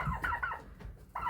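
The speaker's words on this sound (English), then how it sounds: "I hear the heck out of a turkey" A turkey on a farm gobbling, a quick warbling run of repeated notes, a short break, then another burst, fairly close and clear.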